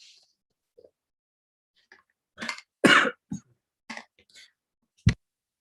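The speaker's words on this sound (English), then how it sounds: "I coughed up a little right there" A few harsh coughs close to the microphone, with short bursts separated by quiet gaps and a final sharp throat-clearing sound.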